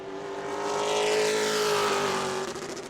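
Ryan Luza's 08 Pro Late Model race car on a qualifying run at New Smyrna Speedway, its engine roaring loud and close as it swells and then fades away in one continuous pass.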